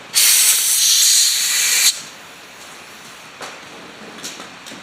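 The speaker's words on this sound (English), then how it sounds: "Just light air pressure. Just blowing through there." An air blow gun pushes a steady, loud hiss of light compressed air through the carburetor of an Apollo RFZ 125cc pit bike for about two seconds, then cuts off, leaving a quiet workshop with a few small clicks.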